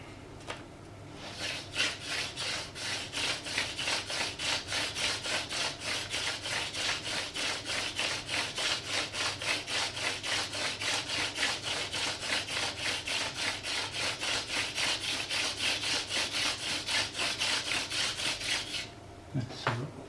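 A bushcraft bow drill saws back and forth rapidly, the wooden spindle grinding against the hearth board in a steady rhythm of close, raspy rubbing strokes for most of the time, stopping abruptly near the end.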